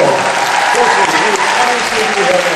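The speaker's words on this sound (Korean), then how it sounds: "자 여러분 박수 좀 보내주시죠" A large audience applauds at a stage event, a dense, steady wash of clapping that stays loud and unbroken from start to finish.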